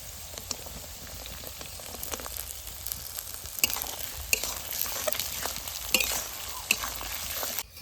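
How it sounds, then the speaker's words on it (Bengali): Carrots and beans are being stir-fried in a pan, giving a continuous crackling sizzle with scattered pops. Frequent scraping and stirring strokes against the pan grow somewhat louder toward the end, and no one speaks. "এই গাজরটা আর বিনসটা ভালো করে ভাজতে হবে"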